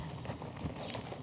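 A horse trots rhythmically in an arena during a riding lesson, its hoofbeats soft and regular under a continuous low background rumble.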